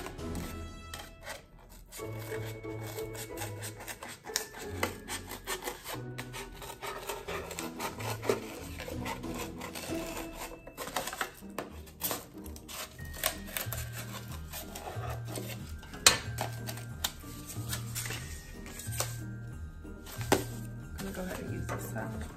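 A blade works around a circle in foam board, producing close, rasping, scratchy strokes in an uneven rhythm, with a voice speaking intermittently over the cutting.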